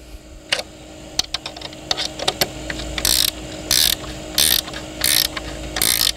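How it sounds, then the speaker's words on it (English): A 7/16 inch wrench tightens bolts on an Adirondack chair, with sharp metallic clicks at first, then a series of evenly spaced ratcheting bursts, loud and close, with no talking. "Take your 7/16 inch wrench and tighten securely."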